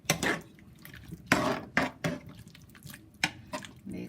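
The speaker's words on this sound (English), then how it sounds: "I'm pouring potatoes." Potatoes tipped into a pot of Trinidad-style curry beef, landing as a few separate splashy plops and clatters spread over a few seconds, close by and fairly quiet.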